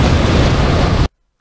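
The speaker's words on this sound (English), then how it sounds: "when the player fires a round at a monster, an explosion sound will take place" Video game explosion effect triggered when the player fires a round at a monster in a ghost shooter: a single loud, dense noise burst lasting about a second, then cut off abruptly to silence.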